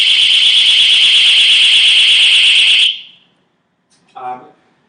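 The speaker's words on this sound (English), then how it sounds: "So this sound alarm has 130 decibels. It's super loud." A Vigo Road personal safety alarm rated at 130 decibels shrieks loudly and steadily for about three seconds, then cuts off into silence before a brief voice is heard.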